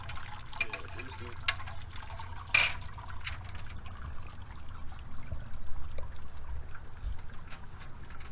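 Wort draining off a grain bag in a 120v BIAB brewing system, a continuous close trickle and splash of liquid with a brief louder clatter partway through and faint background voices.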